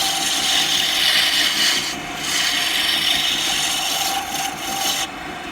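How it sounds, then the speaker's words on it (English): Steady, continuous rasping of sandpaper scrubbed back and forth over wood, close up and fairly loud, with a few brief pauses between strokes. "Now I'm going to be doing a little bit of sanding on this"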